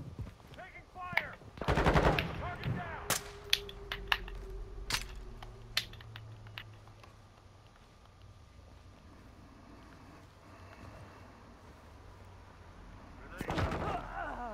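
Bursts of Call of Duty multiplayer gunfire crack out in rapid automatic volleys and single loud shots, then ease into a quieter windy stretch before another close burst, with faint voice chatter in the mix.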